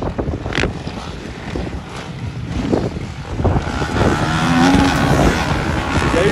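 Motocross dirt bikes, a 350 SXF and a 450 CRF, ridden on a dirt track at Segonzac, engines revving and droning close by under heavy wind buffeting on the microphone, building louder toward the end.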